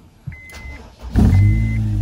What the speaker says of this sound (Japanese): やっぱね、このスプーンのマフラーはかなりいい音しますね。